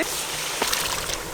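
Water being poured into a pot holding ten whole tomatoes and green chillies for chicken karahi, a short steady splashing rush with a brief stronger splash midway.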